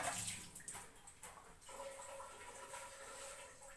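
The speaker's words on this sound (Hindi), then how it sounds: "छत पे प्याज धो लूं पहले।" Onions being washed in water up on a rooftop, with splashing and running water loudest in the first moments, then a steadier, softer wash of water noise that continues without any talking.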